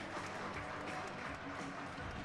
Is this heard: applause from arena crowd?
yes